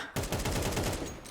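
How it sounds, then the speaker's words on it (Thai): Rapid bursts of Counter-Strike 2 gunfire, a loud automatic weapon firing in a fast steady rhythm for over a second, close and punchy. "เสียงปืนก็เปลี่ยนลองฟังเสียงนะ"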